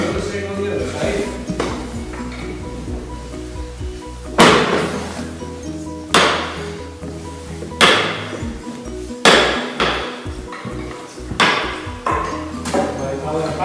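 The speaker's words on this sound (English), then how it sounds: "After chiseling, slowly and carefully, just try and get the tool back." Hammer striking a chisel, a series of sharp metallic blows coming at irregular intervals of about one to two seconds, each with a ringing decay, against quieter background sounds.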